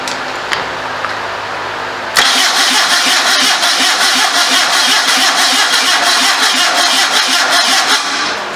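Starter cranking a 650 motorcycle engine on a homemade trike, a low grinding whir for about two seconds before the engine catches and settles into a loud, steady running rumble.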